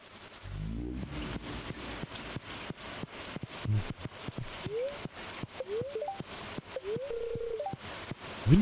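Rain in the farming video game Stardew Valley, a soft continuous patter heard over a run of sharp regular clicks and short game blips, with no talk over it.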